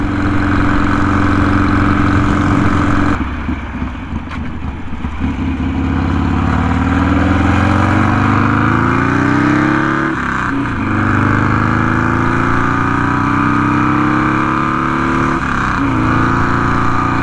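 A Buell cruiser motorcycle engine hums steadily while riding, its pitch climbing through each gear with brief dips at the shifts, close and continuous under wind noise.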